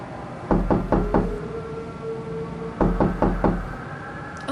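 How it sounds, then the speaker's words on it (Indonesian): Two sets of sharp knuckle raps on a door, each a quick series of three or four knocks, close and clear, with a short quiet pause between them. "ada orang mengetuk pintu, tok tok tok gitu ya"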